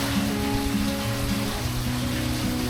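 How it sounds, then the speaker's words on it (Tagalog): Light rain falls steadily outdoors, a soft continuous hiss with a faint low hum beneath, heard alone without voices. "may nahinaan na yung ulan."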